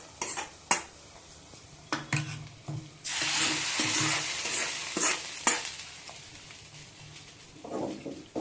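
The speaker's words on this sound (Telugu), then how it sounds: "పప్పులోకి అయితే యాడ్ చేద్దాం పోపు." Hot tempering poured into gongura (sorrel leaf) dal crackles in a burst of loud sizzling, with the pot stirred and utensils clinking and scraping before and after. No voices.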